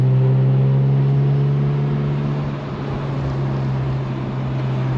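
An Infiniti Q50 Red Sport, lowered and boosted, drives at night with a loud, steady engine drone and deep low hum holding constant throughout, heard from inside the cabin.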